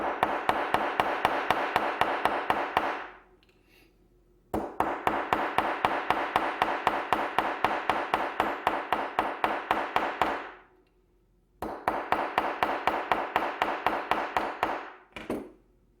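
Rapid, evenly spaced hammer blows peen a folding pocket knife during repair, in three bursts of steady metallic tapping separated by short pauses.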